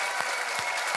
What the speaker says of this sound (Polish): Brawa dla naszych umysłowych wojowników!